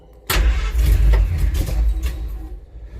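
A Simca Marmon 4x4 engine cranks over with a loud, close, low rumble lasting about two seconds, then fades out without catching.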